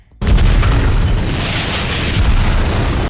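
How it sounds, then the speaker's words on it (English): A loud, close explosion destroys the CDC building in The Walking Dead, a sudden heavy boom that swells into a sustained roaring blast and rumble lasting several seconds, with no talking over it. "The explosion doesn't just destroy the CDC"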